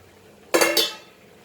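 Boiled penne pasta is tipped into a pan and stirred, with two quick close clattering scrapes of a utensil against metal that fade quickly. No one speaks.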